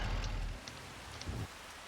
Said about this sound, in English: Started raining.